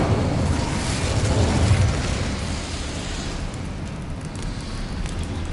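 Incendio fire spell cast in Hogwarts Legacy, a loud roaring blast of flame that swells over the first two seconds and then settles into a steady crackling burn.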